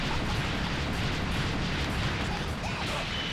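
Gotenks unleashes his Big Tree Cannon energy attack in the Dragon Ball Raging Blast 2 fighting game, a loud, dense, continuous roaring blast that rumbles steadily for the whole few seconds.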